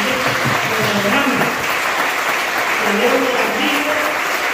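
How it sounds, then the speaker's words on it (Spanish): Audience in a cathedral church meeting applauding steadily and loudly for the whole stretch, a dense wash of clapping with voices faintly audible beneath it. "Démosles un fuerte aplauso para que se nos den"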